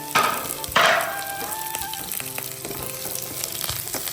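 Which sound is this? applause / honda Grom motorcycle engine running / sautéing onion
sautéing onion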